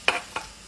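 Onions dropped into a hot pan of sauce give two quick, close sizzling hisses, the first louder, each fading fast.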